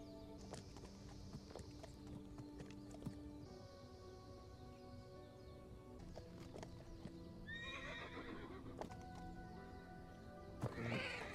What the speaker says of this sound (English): It's a baby horse.